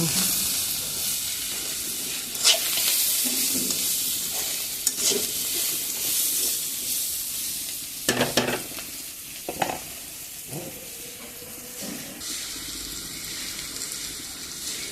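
Half a kilo of beetroot frying in a pan, a constant sizzle and hiss broken by repeated scraping stirs of a spoon, close and clear, with no talking.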